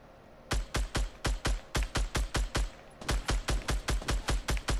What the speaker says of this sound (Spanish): Están disparando, ¿eh?